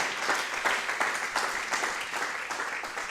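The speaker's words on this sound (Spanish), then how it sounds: "Fuerte el aplauso al Señor." Congregation in church clapping for the Lord, lively rhythmic applause with pulsing accents roughly every third of a second, steady and moderately loud from start to finish.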